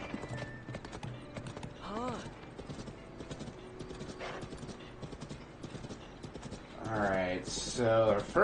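Horse hooves clip-clopping in The Legend of Zelda: Tears of the Kingdom, a rhythmic patter beneath game sounds, with a horse whinnying loudly near the end.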